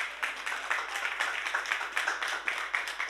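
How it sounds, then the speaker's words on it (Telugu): A church congregation at a first-anniversary worship service claps hands loudly, rhythmic beats in a steady group pattern, fairly close and continuous for a few seconds with no clear talk. "నమ్మిన వారు గట్టిగా చప్పట్లు కొట్టి దేవుని మహింపరుద్దామా?"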